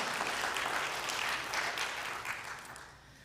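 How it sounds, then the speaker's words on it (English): A church congregation claps together in a dense, steady burst that fills the space, then gradually thins and fades toward the end. "Don't you want to clap for that?"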